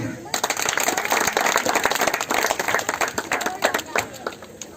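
An audience at a self-respect garland wedding clapping loudly and continuously for the groom, a dense crowd of hands ringing out with voices mixed in.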